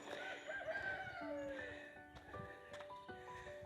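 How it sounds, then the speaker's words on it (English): A farmyard rooster crows several times outdoors, its drawn-out, wavering calls fairly distant and moderately quiet, with faint background noise and no speech. "our rooster's saying good morning"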